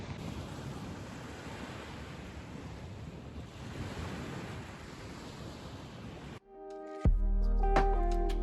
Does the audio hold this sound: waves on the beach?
yes